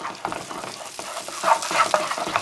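Red pepper flakes stirred through melted butter in a pan: a soft sizzle with a few quick scraping passes of a spoon, close and fairly loud, without talk.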